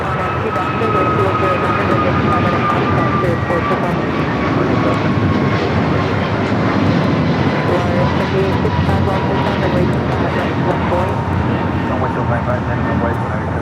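Airliner jet engines roar at LAX airport, including an American Airlines A321neo, as a loud, sustained whine and rumble that carries on steadily under a voice talking.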